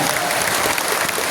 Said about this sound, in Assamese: আপোনালোকে এটা জোৰে হাত চাপৰি মাৰি